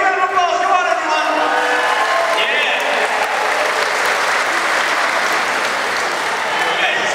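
A loud concert crowd at a show applauds and cheers, a dense, sustained roar of clapping and voices that stays strong throughout.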